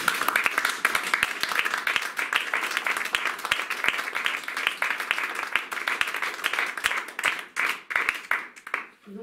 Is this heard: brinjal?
no